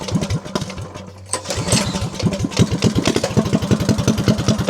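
A 196cc/212cc small single-cylinder engine idling after its dual charge coils were replaced, a loud, even, fast putter that dips briefly near the start, then runs steady and close.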